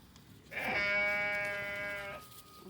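A single sheep lets out one long, close, wavering bleat that lasts about a second and a half over a quiet farmyard background.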